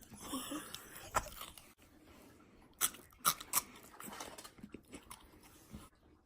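Someone bites into and chews toast, producing several sharp crunches and softer chewing sounds at close range, with brief breathy noises between bites.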